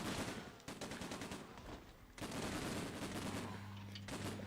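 Rapid automatic gunfire in a video game, with dense bursts of shots breaking off briefly about two seconds in before resuming loudly alongside other weapon sounds, with no talk.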